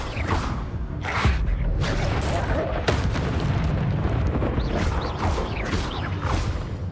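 Incendio fire spells cast in Hogwarts Legacy: a rapid series of loud whooshing bursts and booms, roughly eight blasts in quick rhythm, close and dense, with a little voice mixed in.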